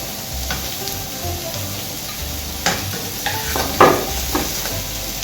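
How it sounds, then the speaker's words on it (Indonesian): Tempeh steak ingredients and mushrooms being stirred together in a hot pan, with a steady sizzle of frying under scattered scraping and clinking of the spoon, several sharper knocks near the end. "Lalu campur semuanya."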